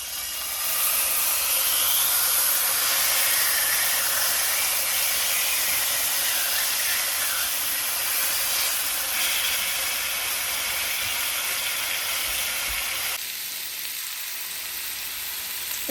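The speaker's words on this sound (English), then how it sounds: "I'm just searing it so it can kind of stay intact" Meat sears in a hot, cooking-sprayed pan with a loud continuous sizzle and hiss that holds steady for a long stretch before dropping slightly near the end, with no voices.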